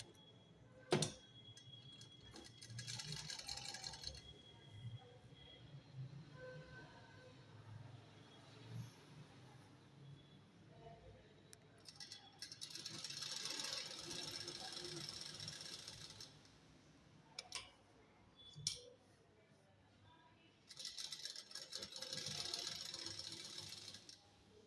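A sewing machine stitches fabric for a girl's pattu dress, running in quiet, rapid rattling bursts separated by pauses and faint handling sounds.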